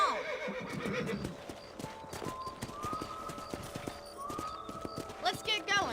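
In the Western video game Red Dead Redemption, horses walk with a steady clip-clop of hooves while one neighs loudly at the start and another whinnies near the end, with a soft musical score playing underneath.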